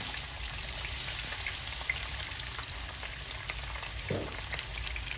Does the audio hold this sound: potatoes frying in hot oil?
yes